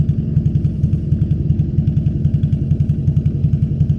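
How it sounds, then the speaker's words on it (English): An old Toyota AE86 engine with worn distributor and ignition wiring idles roughly nearby, a loud, fast, uneven pulsing beat with irregular stumbles throughout, no talk over it. "the car is misfiring quite often."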